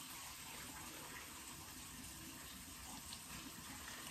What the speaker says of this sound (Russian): Все это у нас обычная вода с крана.